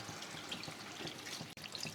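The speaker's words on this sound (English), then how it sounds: "That's when you add water, just fresh water." Fresh water poured into a pot of chicken coconut curry that is starting to boil, a steady close splashing gush running throughout with no talk.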